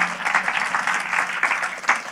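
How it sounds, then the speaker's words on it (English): A church congregation claps along during a worship service, a dense, fairly loud patter of hands with uneven swells running throughout. "Please clap for God."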